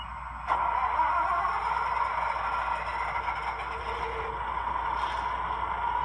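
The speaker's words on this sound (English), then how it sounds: "let's fire this GenSet up and listen to it" A model locomotive GenSet engine with a SoundTraxx Tsunami2 sound decoder fires up. It starts with a sharp onset, then holds a steady, loud, droning mechanical hum with a brief tonal alarm-like accent near the end.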